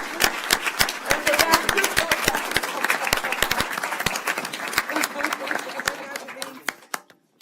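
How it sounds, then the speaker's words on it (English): Applause from an audience at a board meeting, a steady patter of many hands clapping that runs for several seconds before tapering off, with some talk mixed in. "a round of applause"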